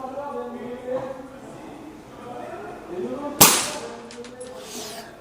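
A single sharp crack from an FX Dreamline air rifle firing a pellet, close and loud, its brief snap ringing out amid quiet murmured talk before and after.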